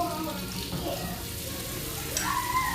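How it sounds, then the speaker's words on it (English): Flour and butter stirred together in a pan while the roux cooks, a steady soft sizzle with scraping stir strokes running throughout, fairly close and even, with a brief brighter clink near the end. "Mix it well. At least 2 minutes, so you are sure that the butter is cooked."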